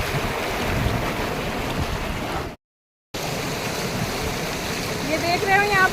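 A fast glacier-fed stream at Zojila pass near Manchoi glacier rushes in a loud, constant roar, broken by a brief cut to silence partway through, with a voice faintly under the water.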